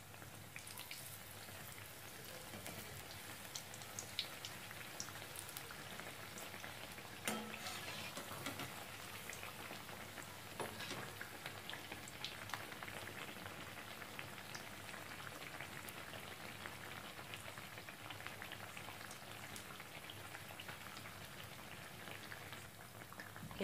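Bread pakoras deep-frying in hot oil on a gas flame turned up full, a steady dense sizzle and crackle that runs evenly throughout with occasional sharper pops and spatters, close up and with no talking.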